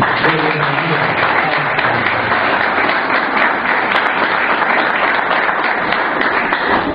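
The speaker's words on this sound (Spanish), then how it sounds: "démosles un fuerte aplauso" A large church congregation applauds loudly and continuously, a dense wash of clapping that stays steady, with a voice briefly audible at the start.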